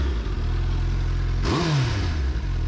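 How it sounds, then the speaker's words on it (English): A 2021 Suzuki Hayabusa motorcycle engine idles with a low rumble while stationary, then gets a single quick rev that rises sharply and settles back down. "Revving a stationary bike."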